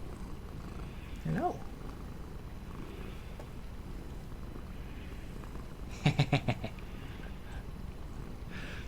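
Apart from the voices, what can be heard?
cat purring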